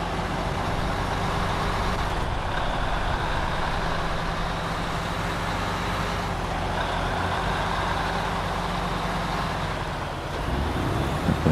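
Loud, steady drone of a heavy truck engine in the SnowRunner off-road driving game, a constant low rumble with no talk over it.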